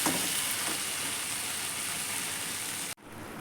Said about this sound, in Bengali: তরকারিগুলো ভালো করে কষানো হয়ে যাওয়ার পর এই তেলের বড়াগুলো ছেড়ে দিলাম ব্যাস ওটা একটুখানি নাড়াচাড়া করে